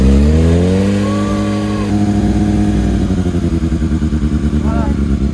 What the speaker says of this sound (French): Tu veux pas que je fasse un petit tour de moto, moi?